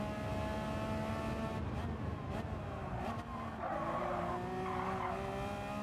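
Tires on a Porsche 992 skid and squeal as the car drifts wide through a corner at Yas Marina in Gran Turismo 7, a steady engine drone running underneath the sustained screech.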